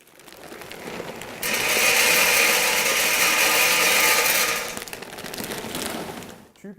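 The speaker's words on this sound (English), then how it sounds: "Compressed pellets will often make a little more noise as they travel up the auger, as some of them will break on the way up." Compressed pellets travel up the auger of an Aduro H1 hybrid stove, making a loud, continuous grinding, crunching rattle that runs for about three seconds before dropping back to a quieter mechanical hum.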